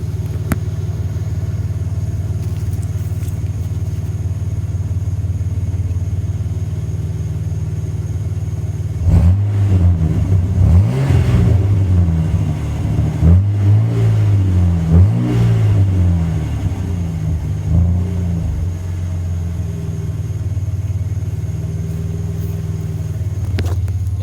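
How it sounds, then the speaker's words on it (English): Inline-six truck engine idling through its exhaust system, a steady low rumble that swells into a few revs in the middle before settling back to idle, close and moderately loud. "let y'all have a little listen to this exhaust system"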